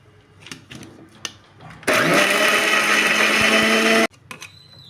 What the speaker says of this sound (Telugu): ఇప్పుడు ఇది మొత్తం మిక్సీ వేసేసుకున్నాం